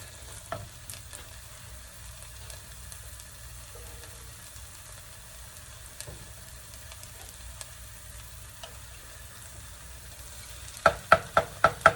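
A high-protein keto breakfast scramble sizzles softly and steadily in a pan, faint and close. A few sharp scraping or tapping knocks follow near the end.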